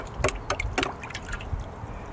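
Water splashes and drips as sluice contents are washed into a Gold Claw gold pan, with several quick splashy bursts and softer trickling between them, close up.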